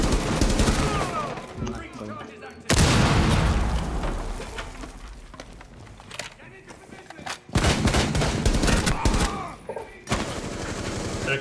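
Gunfire in the video game Rainbow Six Siege, dense bursts of automatic fire and heavy shots with booming impacts, loud and continuous, with players talking over it.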